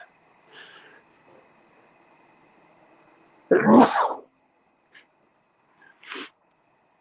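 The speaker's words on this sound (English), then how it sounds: "I'm going to sneeze, by the way." A single sharp, explosive sneeze bursts out of near silence, followed moments later by a short sniff or throat noise.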